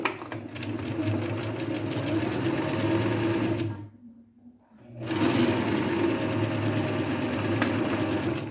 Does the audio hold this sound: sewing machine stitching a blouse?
yes